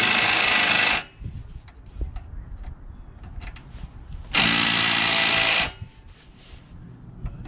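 An impact wrench tightens the head bolts on a low-compression Craftsman 5.5 HP 24-inch dual-stage snowblower engine: two loud, close bursts of harsh rattling, each about a second long, separated by a quiet pause.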